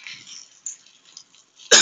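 A single sharp, loud cough bursts out near the end after faint background murmurs, recorded close by during a night ride on a tricycle.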